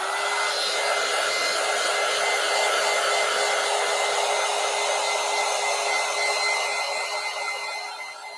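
A hair dryer blowing steadily on a collage as it dries, a loud even whirring hiss running throughout with no talk, easing slightly at the end.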